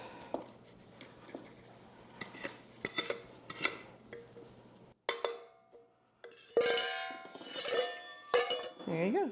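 Glass jars of spiced chai latte mix clink and knock against each other and a hard surface, in a series of sharp taps and rattles with quiet pauses, and a brief muffled voice is heard partway through.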